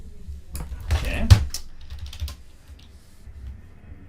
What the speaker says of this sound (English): let's type in integration by substitution